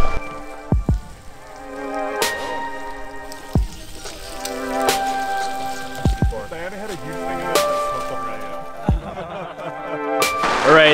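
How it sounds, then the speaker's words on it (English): Heavy rain pours steadily on a tent at a Michigan campsite, with sharp drop impacts standing out over a constant hiss while people talk nearby. "it's like raining hardcore right now"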